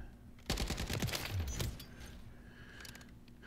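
Short burst of RPK machine gun hip-fire in a video game, a rapid run of close, loud shots lasting about a second, then fading into a quieter, noisy game ambience.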